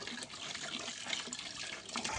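Water flows steadily, a close, continuous rushing wash with no voices over it.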